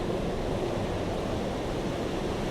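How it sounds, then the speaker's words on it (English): The Malad River flows over a small waterfall in a gorge, a constant broadband rush of water with some wind buffeting, steady and moderately loud, no talking. "You get a closer up of the flow of the water here."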